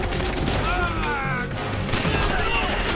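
Machine gun fire in the World War II shooter Call of Duty: World at War, sustained dense bursts with booms and crashes, loud and continuous, with shouted voices in the mix.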